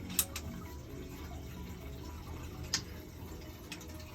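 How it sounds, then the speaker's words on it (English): Water drains from a home central heating system through a hose, emptying the loft feed and expansion tank. A faint, steady rushing hiss continues throughout, broken by a few sharp clicks. "You can hear it all draining out, lovely."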